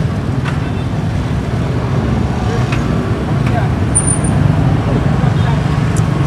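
Cars passing on a roadside by a river at night, a steady traffic rumble with vehicles sweeping by at moderate distance and people talking faintly alongside.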